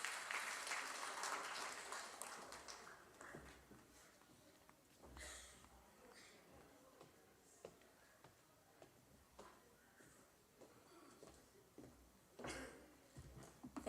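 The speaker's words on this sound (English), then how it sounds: "A round of applause, please." Audience at a stakeholders' forum applauds after a speaker is introduced, a fairly faint burst of clapping that swells at the start and then thins into scattered claps and room noise.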